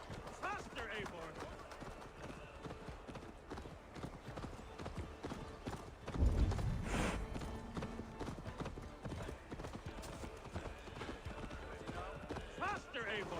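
Horse hooves clip-clop at a steady galloping rhythm throughout a ride in Assassin's Creed Valhalla, loud and continuous beneath character dialogue, with a brief louder thump midway.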